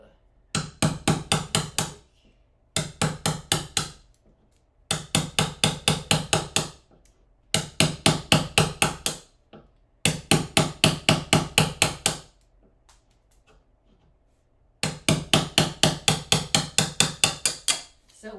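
Repeated hammer blows drive a regular chisel into wood during a kitchen pantry build, landing in loud, rapid bursts of sharp knocks separated by short pauses, close up and with no talking.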